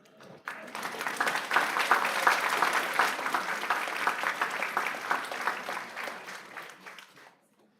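A school board meeting audience gives art contest winners a round of applause: a dense, sustained wave of clapping that swells quickly, holds for several seconds, then fades out.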